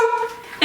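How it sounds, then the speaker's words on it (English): A pet dog named Brownie barks sharply in a home kitchen, a short burst of yipping barks rising loud and close at the end. "now the dog's barking"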